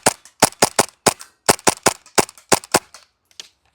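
A Vorsk VMP-1 gas airsoft gun fires about a dozen sharp, close, loud shots in quick irregular bursts, followed by a couple of faint clicks.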